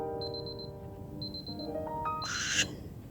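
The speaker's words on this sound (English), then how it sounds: "And then we hear another alarm," Alarm ringing in Superliminal, two short runs of rapid high beeps followed by a rising electronic chime sweep and a bright shimmering flourish.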